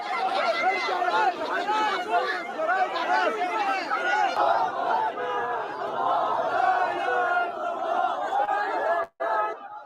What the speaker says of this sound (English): a massive crowd came together to voice their anger and called for a response to the attacks